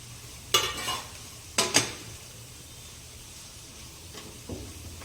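Chopped cabbage and capsicum sautéing in a pan, with a soft steady sizzle and a few brief scraping stirs of a utensil against the pan near the start and again near the end.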